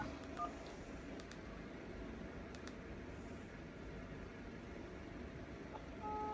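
Faint, quick beeps of phone keypad tones, a few short bursts at irregular spacing over a low background hum, ending with a longer steady tone.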